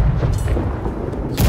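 Mortar fire in the naval game Blackwake, a deep booming rumble that rolls on steadily with a sharper burst near the end.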